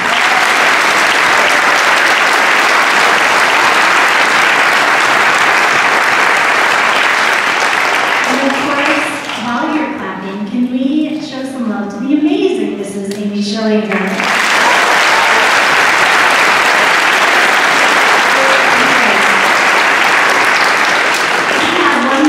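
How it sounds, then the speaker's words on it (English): An audience at a 7th grade school winter concert applauds in long, dense waves of clapping, with a spoken announcement breaking in over a dip in the middle before the clapping swells again. "Can we please give them a round of applause?"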